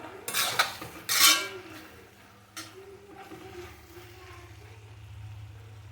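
A spoon stirs cauliflower curry seasoned with coriander and cumin powder in a pan. A few sharp metallic scrapes and clinks ring out early, then it settles into softer mixing over a low background hum.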